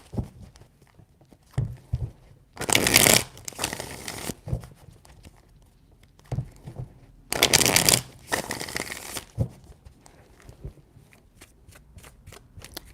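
Tarot cards are shuffled close by in distinct bursts of riffling flutter, two long ones among shorter taps and handling sounds, with quiet gaps between.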